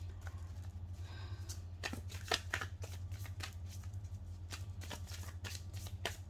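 Tarot cards being straightened and shuffled by hand, a quiet run of riffling and soft flicking snaps over a steady low hum, with no talk.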